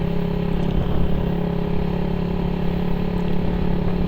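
Motorcycle idling and revving through an open pipe exhaust fitted with a screen type insert, a loud, steady, close droning engine note with slight throttle swells throughout.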